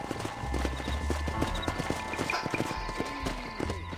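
Horses' hooves clip-clop steadily on hard ground in the Western video game Red Dead Redemption, several animals at once, with an occasional snort or whinny and a low ambient rumble underneath.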